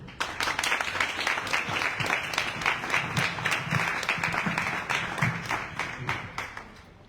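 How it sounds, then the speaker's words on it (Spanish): A crowd at a short-film screening and photo exhibition applauds to welcome the filmmaker, many hands clapping in a lively, moderately close burst that holds steady before tapering off at the end. "Recibamos con un fuerte aplauso a Diego Samper"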